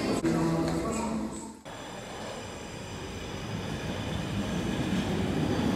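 A Brussels metro train on line 6 toward the Atomium rumbles steadily from inside the car, with a brief dip in noise before the rolling hum resumes and stays loud.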